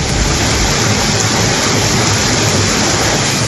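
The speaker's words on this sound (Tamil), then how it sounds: "நீலகிரி மாவட்டம் கூடலூரில் ஒரு மணி நேரத்துக்கும் மேலாக கனமழை கொட்டி தீர்த்தது" Heavy rain pouring steadily for over an hour in Gudalur, Nilgiris district, a dense, loud, unbroken roar of downpour with no voices.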